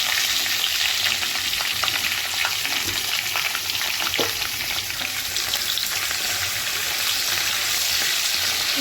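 Green chillies sautéing in oil with onion and capsicum, a dense steady sizzle with light stirring scrapes throughout, close and unbroken.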